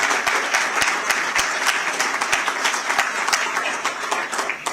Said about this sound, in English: I think it's worth giving all these guys a quick round of applause to say thank you.